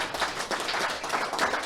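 An audience at an awards gathering honoring local unsung heroes claps in a brief, continuous burst of applause with no talking.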